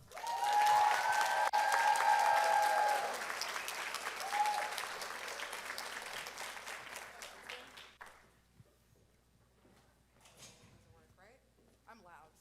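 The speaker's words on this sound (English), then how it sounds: "So if everyone could give another loud round of applause for Brianna." A loud round of applause from the crowd at a Lavender Graduation ceremony, many hands clapping densely at first, then thinning and fading out as a few cheers and voices linger.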